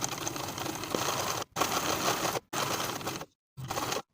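Sewing machine edge stitching a folded pant hem close to the top edge, running in steady fast whirring bursts of about a second each with short pauses between them, close and clear.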